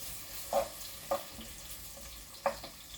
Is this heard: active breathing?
no